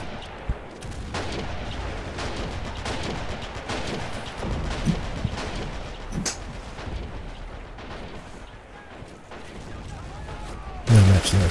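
Machine guns rattle in a WWII strategy game battle on the outskirts of Stalingrad, sustained gunfire and distant booms running steadily throughout with a louder burst near the end.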